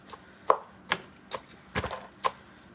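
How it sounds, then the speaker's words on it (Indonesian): A knife chops through oversized fruit scraps while kitchen waste is stirred into soil for compost, five separate sharp chops spaced about half a second apart, close and fairly crisp. "Saya ini aduknya sekalian memotong-potong buah-buahan yang terlalu besar."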